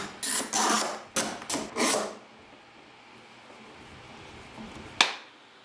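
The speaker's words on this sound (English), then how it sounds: "So I'm going to grab the clamps and clamp it down." Clamps being tightened down on a wooden epoxy river table: a few close, rasping turns in quick bursts, then quiet, then one sharp click near the end.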